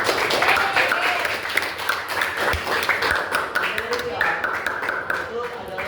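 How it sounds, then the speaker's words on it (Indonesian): Classmates in a classroom clap for one another, a dense spread of handclaps close by, mixed with chatter and voices throughout. "Oke, tepuk tangan buat teman-teman."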